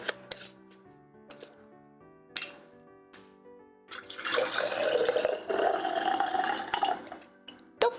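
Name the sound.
straining blueberry dye liquid through a strainer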